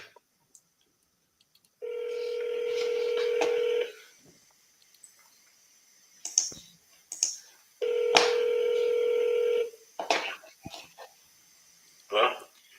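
An outgoing phone call dials out, with two long ringback tones separated by a pause, interspersed with short clicks and faint background sounds.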